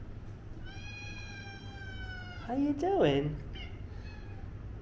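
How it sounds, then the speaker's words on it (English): A cat lets out one loud, wavering meow close by, with a soft, drawn-out mew before it and a voice talking briefly in a room. "I'm so happy to be surrounded by cats."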